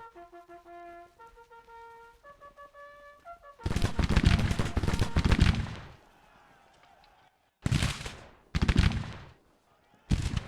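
Gunfire in a Civil War skirmish: after a few soft musical tones, a dense loud burst of rifle volleys rolls out, then fades, followed by two more sharp separate bursts and the start of another, without voices.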